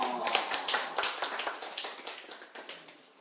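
Brief applause from a small church congregation at a Sunday service, a few people clapping in a quick, uneven patter for a few seconds.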